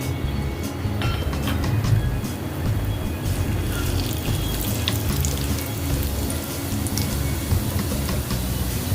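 Mustard seeds and cumin sizzle in three spoonfuls of hot oil for kurmura poha chevdo, making a dense, steady crackling and frying hiss, close and continuous with no talking.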